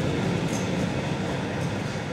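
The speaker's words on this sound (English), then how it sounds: "That's a South Shields train." A Tyne and Wear Metro train on the South Shields line rumbles loudly and continuously nearby, a steady roar of wheels and motor with a faint high squeal.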